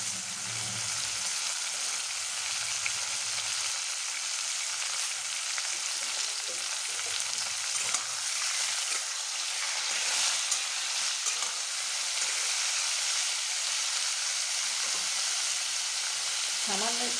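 Boiled papaya sizzles steadily as it fries in a pan and is stirred, a continuous, fairly loud crackling hiss with occasional soft scrapes and no talking.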